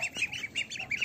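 Ducks quack in a farmyard in bursts, several nasal calls coming close together at moderate loudness with quiet gaps between them.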